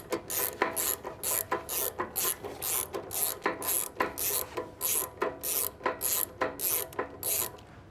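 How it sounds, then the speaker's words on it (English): A hand ratchet clicks steadily while loosening brake caliper bolts on a performance car, a loud, close, regular rhythm of rapid pawl clicks in repeated strokes with brief pauses between them. "you can hand me that ratchet and I'll pull this side off."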